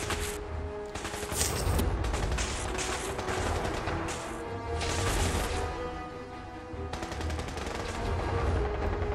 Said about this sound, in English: Opening fire at a skyscraper full of robots?